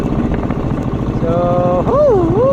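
A motorboat engine drones steadily and loudly close by at sea off a Philippine coast with small white-capped waves, its rumble continuous throughout while a rising and falling tonal sound sweeps over it near the end.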